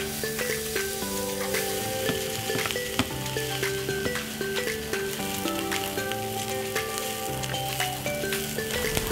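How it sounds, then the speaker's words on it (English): Onions sauté with salt in a pan, giving a steady, soft sizzle with small crackles and occasional stirring, with no voices. "We want to wait until these onions are beautifully sweet and translucent."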